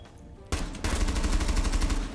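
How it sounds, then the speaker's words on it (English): Gunfire in the video game Rainbow Six Siege starts abruptly with a single loud shot, then becomes a rapid, evenly spaced automatic burst. The shots are close and loud and keep firing to the end. "this guy shoot me through the barricade"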